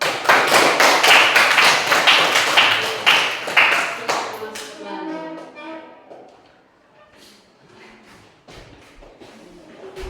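A classroom claps for a student discussion group, a lively burst of many hands slapping for about four seconds that thins into scattered claps and taps, with a voice speaking lightly underneath.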